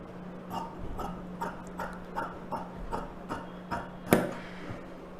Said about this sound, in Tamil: இந்த டீஸ் மார்க் மேலே கட் பண்ணிவிடுங்க கரெக்டாக